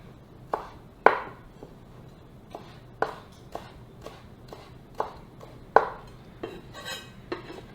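A knife chops fresh garden dill on a cutting board, a dozen or so sharp, uneven taps close by with short pauses, one or two landing harder than the rest, and no talk.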